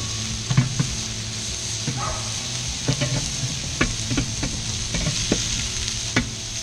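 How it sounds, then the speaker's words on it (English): Turkey burgers sizzle steadily on a Weber Q gas grill while being flipped. A constant close hiss carries scattered scrapes and clicks from the spatula against the grate. "open the lid and give these burgers a flip"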